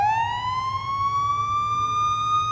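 A police car siren in the video game Police Simulator: Patrol Officers, a wailing tone rising steadily in pitch and holding, loud and continuous, with a low engine rumble underneath.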